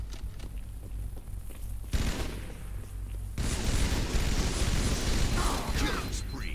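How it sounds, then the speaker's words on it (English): Shotgun blasts ring out during a competitive Halo 2 free-for-all match, heavy bursts of gunfire piling onto loud, chaotic game noise that swells louder toward the end. "Halestorm blasts Fattystuff with the shotgun for his fourth kill."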